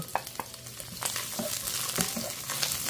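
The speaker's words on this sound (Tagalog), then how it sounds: "Sabay-sabay na yung paggisa ko." Onion and ginger sautéing together in a hot pan, a steady close sizzle with scattered scrapes and clicks from stirring throughout.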